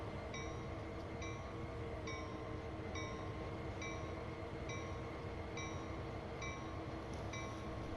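A locomotive and train in the Train Sim World 2 game on the CSX Sand Patch grade, a steady continuous rumble with a repeating high tonal pulse about every second, loud and unbroken, with no talking.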